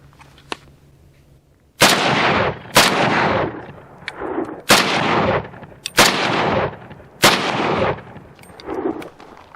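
A Ruger Mini-30 rifle fires six loud, sharp shots at a steady pace of roughly one per second, each crack followed by a ringing echo trail; the rifle had just been repaired, and no one talks.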